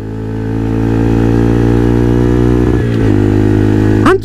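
A four-stroke motorcycle engine runs with a steady, loud droning hum, holding an even idle-like note before a brief rise in pitch near the end.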